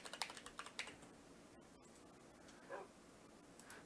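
Quick bursts of keystrokes on a computer keyboard, light clicky taps clustered at the start and again near the end, quiet and close, with a brief soft whine in between.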